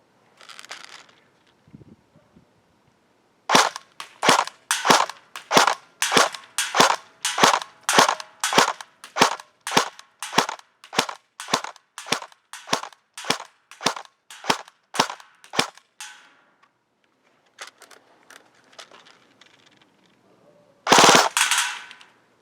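An ASG CZ Bren 805 airsoft gun fires outdoors at a 100-foot target, a long run of about two dozen sharp evenly spaced cracks, then a pause and a final short burst, loud and close.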